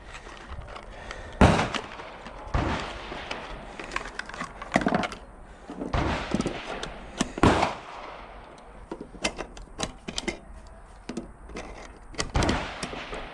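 A 12 gauge bullpup shotgun fitted with a muzzle brake fires buckshot outdoors: a series of sharp, loud blasts, about eight to ten shots, spaced unevenly a second or so apart, with no talking.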